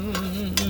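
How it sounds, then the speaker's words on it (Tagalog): Garlic, onion and tomato sautéing in a pan, a steady close sizzle with a couple of brief stirring scrapes over less than a second. "Gisahin muna natin sa bawang, sibuyas at saka kamatis para tanggal ang langsa"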